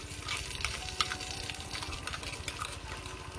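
Spices go into fried onions in a pan while cooking meat, a soft continuous sizzle with a few light stirring clicks, fairly quiet and with no voices.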